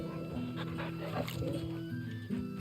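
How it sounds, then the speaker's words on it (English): A wolf companion in the video game Final Fantasy XVI gives short barks, yips and whimpers, with someone talking over it throughout. "This is a wolf. This is a straight up wolf."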